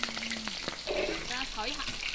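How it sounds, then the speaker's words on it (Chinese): Shrimp tossed into hot rapeseed oil in a wok sizzle and crackle loudly and steadily up close, with a brief faint voice-like sound partway through. "锅里面倒菜籽油，倒虾，抹匀，"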